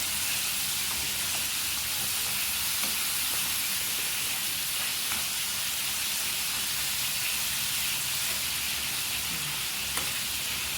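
Garlic sizzling and frying in a pan with sauce, a loud, continuous crackling hiss with faint stirring scrapes, no talk over it.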